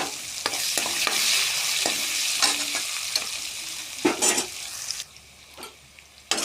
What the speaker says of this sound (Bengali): তারপর দিয়ে দেব পেঁয়াজ কুচি, দিয়ে নাড়তে থাকবো।